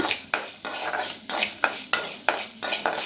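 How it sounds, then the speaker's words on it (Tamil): Urad dal and chana dal roasting in a pan, stirred in regular scraping strokes about every half second, with a dry rattling crackle between strokes, close and alone. "உளுத்தம்பருப்பு, கடலைப்பருப்பு கோல்டன் கலர் வர்ற வரைக்கும் நல்லா வறுத்துக்கோங்க"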